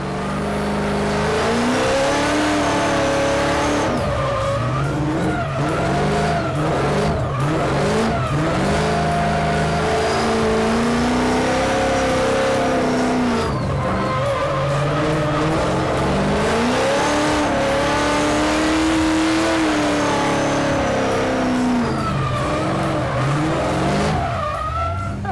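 An 800 HP Formula Drift K Sport Nissan 350Z drifting on a skid pad, its engine revving hard and rising and falling in pitch over sustained tire squeal, loud and close throughout.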